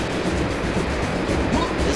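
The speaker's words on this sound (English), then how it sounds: "This is a beautiful place. Just look at the waterfall." Steady rushing water from a waterfall in the video game Serious Sam, a continuous broadband roar filling the whole stretch with no talk over it.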